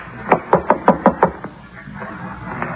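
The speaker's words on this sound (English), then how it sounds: "Go ahead and knock." Six quick, sharp knocks on a door in an old radio mystery drama, evenly spaced and close, followed by a fainter tap and quiet room tone.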